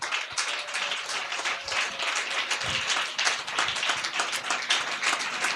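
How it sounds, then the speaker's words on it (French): A church congregation applauds and cheers for Côte d'Ivoire, producing a steady, dense wash of clapping from many hands that holds evenly throughout. "Est-ce qu'on peut acclamer pour la Côte d'Ivoire?"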